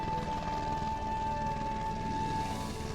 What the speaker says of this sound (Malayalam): വളരെ ചെറിയ ഒരു ഹെലികോപ്റ്ററാണ് ആദ്യം വന്നത്